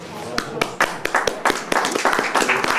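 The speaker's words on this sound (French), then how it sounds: "On l'applaudit très fort." Scattered, uneven clapping breaks out from a café-theatre audience, sharp individual claps that thicken slightly as it goes on, mixed with some voices.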